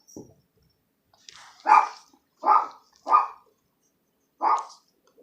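A dog barks four times in separate loud bursts, with a shorter yip at the start, fairly close with quiet gaps between.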